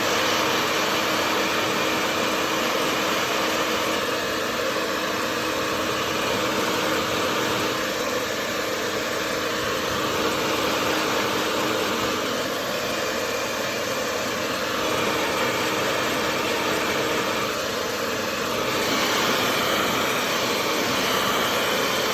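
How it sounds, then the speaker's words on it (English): A hairdryer heating adhesive tape for a GoPro 10 mount on a Shoei GT Air 2 motorcycle helmet, a steady, loud whirring blow that runs unbroken throughout, with no talking. "heat up this tape with a hairdryer"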